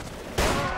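Point-blank gunshot in the Mount & Blade Warband mod Red Wars, a single sharp loud report that starts abruptly partway through and rings on, with no talk over it.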